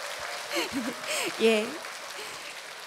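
Audience clapping at a traditional Korean performance event in Jindo, a steady wash of applause running under someone speaking on a microphone.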